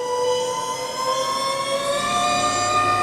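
A 200 HP Abemec electric tractor motor spinning up to full RPM: a smooth, steady whine with tones that slowly rise in pitch, loud and near, without vibration or engine rumble.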